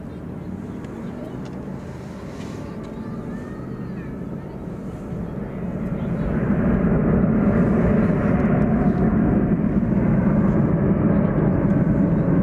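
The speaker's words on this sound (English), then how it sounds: "There goes American Flight 2853 to Los Angeles and Airbus A321" An American Airlines Airbus A321 departs DFW Airport at night, its engine roar swelling from a distant rumble into a loud, steady broadband thrust. Faint talk can be heard in the background.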